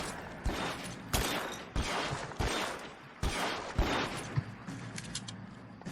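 Shots from an unseen shooter in the L.A. Noire video game ring out as about eight separate sharp cracks, spaced roughly half a second apart at moderate loudness, with no one talking.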